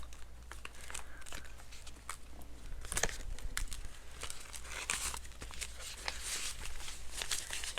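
Paper cash crinkles and rustles as it is slid into a paper envelope, a close, quiet run of papery crackles and brief crisp taps lasting several seconds.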